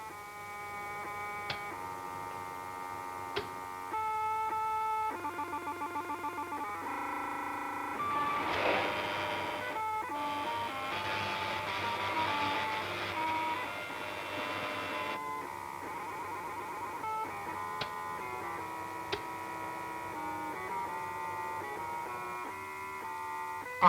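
An Elliott 803 computer from the 1960s works through a chess move, giving a steady mechanical hum with tonal beeping patterns and rapid clattering printer bursts, continuous and fairly close, with no talk.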